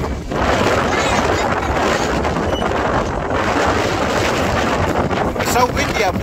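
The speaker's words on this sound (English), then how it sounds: "It's so windy up here, isn't it?" Strong wind buffets the microphone high up on a ride at the Blackheath Easter funfair, a loud, steady roar that lasts the whole stretch without a break.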